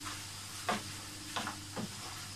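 Chicken sizzles steadily in a frying pan, a constant hiss broken by a few soft clacks of stirring, close and fairly quiet.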